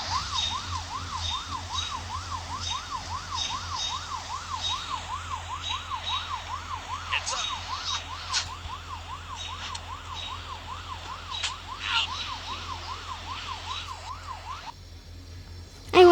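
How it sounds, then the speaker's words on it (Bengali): Wailing police car siren in a video game, a steady rapid up-and-down yelp repeating evenly for about fifteen seconds at moderate loudness with no talk, cutting off just before the end. "সামনে আরেকটা পুলিশের গাড়ি।"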